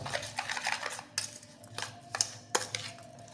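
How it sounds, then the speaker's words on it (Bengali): A spoon stirs green chillies with lemon, salt and vinegar in a bowl for pickle, giving soft scraping swirls with a few sharp metallic clinks against the dish, close and quiet. "লেবু, নুন, ভিনেগারটাকে দিয়ে ভালো করে মিশিয়ে নেব।"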